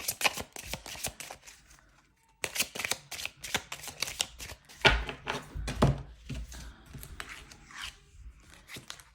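Oracle cards being handled and drawn: quick, crisp card slaps and shuffling riffles close to the mic, broken by a brief silent pause before more flicking and tapping resumes.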